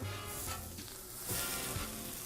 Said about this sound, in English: I'm gonna put my steak right on top. You should hear a nice sizzle.